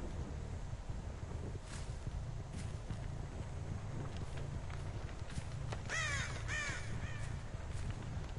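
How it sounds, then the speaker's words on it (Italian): Crow in the game Dead by Daylight, Thompson's House map, cawing a few times then flapping off, over a steady windy outdoor ambience. "Ho spaventato io quel corvo."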